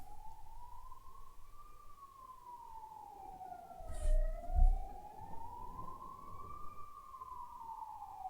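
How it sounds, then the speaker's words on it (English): An ambulance siren wails outside an open window in a city, its steady rising and falling tone carrying from a distance, with low traffic rumble beneath. "I apologize for the ambulance sounds,"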